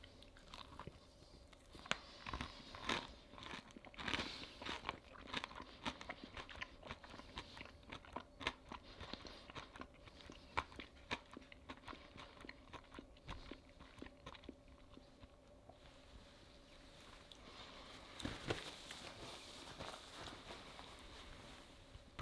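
Close, crisp crunching and chewing of KFC fries and chicken tenders, with repeated bites and mouth sounds in an irregular rhythm at low volume and no talking.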